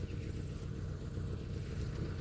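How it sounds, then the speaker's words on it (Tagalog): Ute engine idling on a farm with a low, steady rumble, close and continuous, with no talk. "Nag-andar na yung sasakyan."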